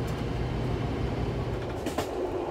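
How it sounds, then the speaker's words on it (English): A passenger train bound for Glasgow rumbles along in a steady low roar heard from inside the carriage, with faint rhythmic clatter of the wheels and no talking. "On the train to Glasgow."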